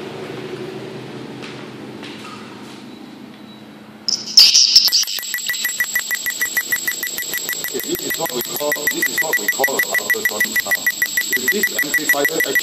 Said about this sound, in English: Okay, that's the ultrasonic sound.